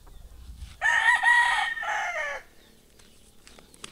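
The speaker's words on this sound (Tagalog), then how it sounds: "Ang daming manok ko." A Kelso gamecock rooster with white legs gives one loud, close crow lasting over a second, while faint background noise continues afterward.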